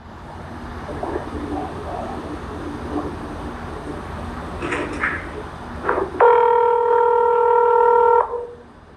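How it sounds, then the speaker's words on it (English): A telephone call is placed: faint dialing beeps over a humming background, then a loud, steady electronic ring tone sounds alone for about two seconds before cutting off. "So here goes the phone call."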